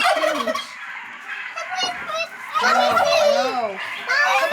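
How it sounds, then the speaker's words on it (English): Farm birds being rounded up to move to pasture gobble and cluck up close, mixed with children's voices chattering over them. "We're going to get the chickens."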